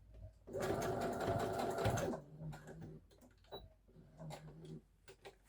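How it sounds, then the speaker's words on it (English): Domestic sewing machine stitching elastic into pyjama pants, a close, fast mechanical whir in a burst of about one and a half seconds, followed by quieter clicks of the hand wheel and presser foot with short stitching spurts. "just use the hand wheel to pivot on the corners. Lift the foot, pivot"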